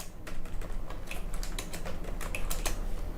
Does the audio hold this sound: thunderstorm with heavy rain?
no